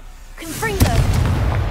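A Confringo blasting spell explodes in Hogwarts Legacy, opening with a sharp close boom that gives way to a dense rumbling roar. A short voiced sound occurs just before the blast.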